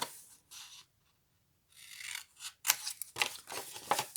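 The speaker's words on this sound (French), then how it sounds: "Maintenant on va découper les bouts, les 4 angles." Scissors snip through the paper corners of an accordion mini-album, a few short crisp cutting strokes close up, separated by a quiet pause, then quicker rustling snips.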